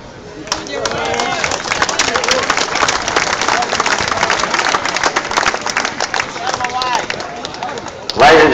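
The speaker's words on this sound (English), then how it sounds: "how about a big round, warm East Perth round of applause for the 1972 Premiership players and the 2002" A warm round of applause from a crowd at an East Perth football club event honouring its 1972 and 2002 premiership players, sustained clapping with voices and cheering mixed in, then fading at the end.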